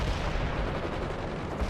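AK rifle fire in the World In Conflict war game comes as dense, rumbling bursts of battlefield gunfire that stay loud and continuous, with no voices over them.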